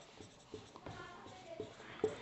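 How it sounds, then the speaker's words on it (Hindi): Chalk or marker strokes tap and scrape on a classroom board in short, soft bursts, close and quiet, with faint room noise between strokes. "इसको फिर से लिख देते हैं"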